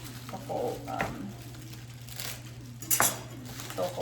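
Cauliflower pieces tumble into a pot for a vegan Thai coconut red curry, giving a few soft clattering knocks and light clinks of pot and utensil, fairly quiet and close.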